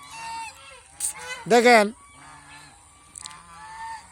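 Geese on a goose farm let out one loud, close honking burst in the middle, with quieter honks around it and someone talking over the scene.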